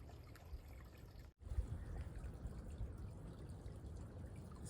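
Water trickles and pours from a stream along the Appalachian Trail as a bottle is filled, a steady close burble interrupted by a brief pause before the flow resumes.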